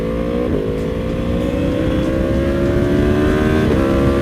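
A 2022 BMW M1000RR motorcycle accelerates hard, its engine note climbing in pitch and dropping briefly at two quick gear shifts, loud and close with no talk.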